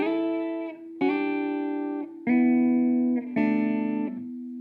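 A sustained, bright electric guitar line of four long notes, each held and bending slightly before sliding to the next, played alone and fairly loud.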